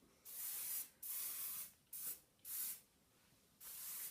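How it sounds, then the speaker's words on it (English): Hairspray hisses from an aerosol can onto hair in short bursts, about five sprays of under a second each with brief gaps, close and fairly soft, with no talking. "I'm using the British hairspray today."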